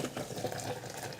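Water is poured out of a container into a kitchen sink, making a steady, close splashing rush that runs without a pause for about a second, with no voices.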